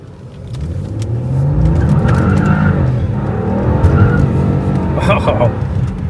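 A tuned 2017 Lincoln MKZ running E30 fuel pulls hard under acceleration, a steady loud engine roar with road and tire noise heard from inside the car, plus a brief squeal near the end.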